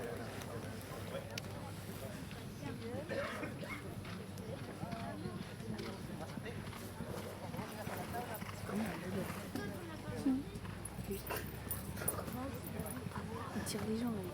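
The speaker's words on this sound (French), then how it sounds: "Regardez, magnifique cheval devant vous avec Guillermo avec son cheval" A polo horse moves across the field during a match, with soft hoof thuds and rustle mixed into crowd ambience, mostly under continuous talk from a commentator.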